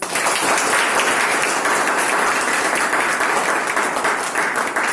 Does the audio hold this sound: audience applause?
yes